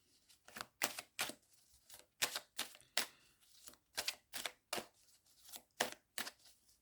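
Tarot cards are shuffled by hand in a quiet room, a string of about fifteen crisp, evenly paced flicks and slaps, soft and close, with no talking.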